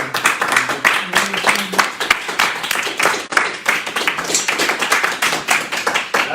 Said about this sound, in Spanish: Dar un aplauso, yo creo, ¿no?